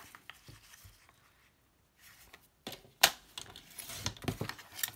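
Paper for a scrapbooking kit is cut with sharp, dry snips and crisp rustling bursts, scattered between short quiet gaps and picking up toward the end, heard close with no talk.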